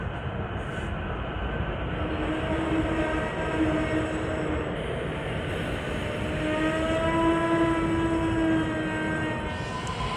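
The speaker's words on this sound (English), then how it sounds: "here's a Lansdale train coming in" A SEPTA commuter train bound for Lansdale pulls into Wayne Junction station, a steady loud rumble of wheels and traction with a sustained tonal whine drifting in pitch, continuous and close throughout.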